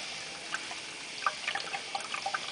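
A water cooling pump in a PC case pushes water over a reservoir ledge, giving a faint, soft trickle with scattered small drips and splashes.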